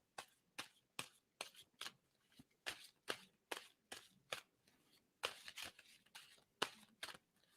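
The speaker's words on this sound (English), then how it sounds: "tell me when to stop shuffling on that" A deck of tarot cards is shuffled at close range in a rhythmic series of quick, crisp riffles, about twenty bursts at fairly even intervals, faint overall with no talk.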